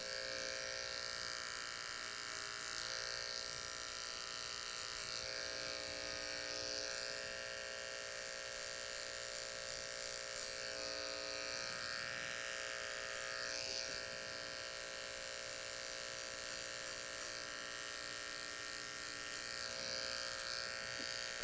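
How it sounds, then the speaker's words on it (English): An electric hair clipper cuts hair during a skin fade, a thin, steady, continuous buzz at low level, heard alone with no talking. "If I go too fast with the clipper, it's just going to push the hair."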